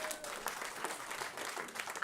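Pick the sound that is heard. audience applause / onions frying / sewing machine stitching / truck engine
audience applause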